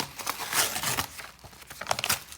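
Paper wrapping on a parcel of cross-stitch supplies is carefully opened, soft close crinkling and rustling with brief tearing bursts, no talk.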